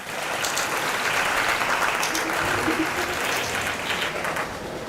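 A steady round of applause for Assistant Professor Anshika Joshi of the Animation Department, dense and even throughout with a slight easing near the end.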